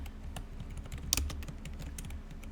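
Quick, irregular clicks of typing on a computer keyboard, close and fairly quiet, with one sharper keystroke partway through.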